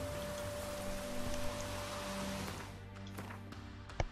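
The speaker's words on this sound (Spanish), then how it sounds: "Vale, se pone a llover." Steady patter of rain falling in the video game The Witcher 3 Wild Hunt, soft and even, with a faint tonal hum beneath it and a small knock near the end.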